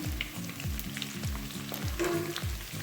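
Ginger and garlic sizzling steadily in hot oil, a dense crackling hiss with rhythmic stirring scrapes repeating about every half second, close up.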